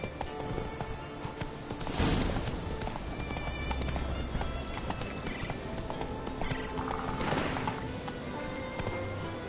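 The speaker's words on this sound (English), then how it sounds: "That's it, Roach. Faster." Hooves of a horse galloping in The Witcher 3, a steady clip-clop rhythm running throughout at moderate loudness over a dense game soundtrack and ambience, with brief swells and occasional whinny-like accents.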